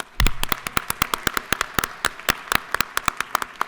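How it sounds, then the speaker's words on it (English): A few scattered hand claps ring out in a steady, sparse rhythm, crisp and close, with no voices, in the Georgia House of Representatives chamber. "if we could still give them a round of applause"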